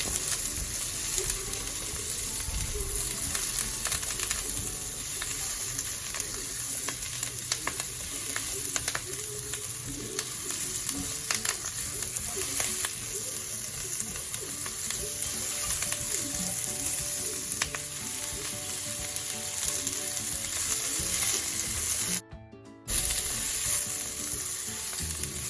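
Bok choy and mustard green stems are stir-fried in a pan, a steady loud sizzle and crackle running throughout with occasional scrape and clatter of stirring, close up and without voices.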